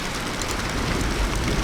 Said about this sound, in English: I know it's already raining, but guess what? We need a little bit more.